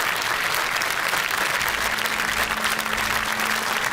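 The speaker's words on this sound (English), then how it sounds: "a collective round of applause, I think, for that one person who's got 10 out of 10 in the studio audience" Studio audience on a BBC quiz show applauds together, a dense, steady wash of clapping that holds loud and even for the whole stretch with no talk over it.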